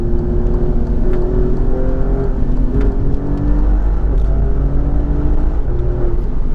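An Alfa Romeo Giulia Quadrifoglio's engine drones steadily from inside the cabin while overtaking another car, its pitch rising in stepped climbs as it speeds up, with continuous road rumble underneath.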